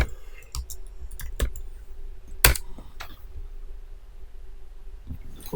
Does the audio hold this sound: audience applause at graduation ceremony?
no